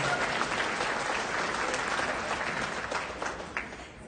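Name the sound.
audience applause at a charity auction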